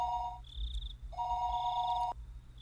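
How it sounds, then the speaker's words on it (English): A telephone rings in the Higurashi When They Cry video game, giving an electronic two-tone trill in alternating bursts that sounds clear and steady before cutting off abruptly. "A telephone ring cut through the heavy silence."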